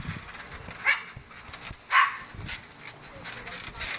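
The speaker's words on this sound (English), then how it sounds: "Smokey is out here barking" A dog barks outdoors in two short, sharp yips about a second apart, moderately close, with people talking softly in the background.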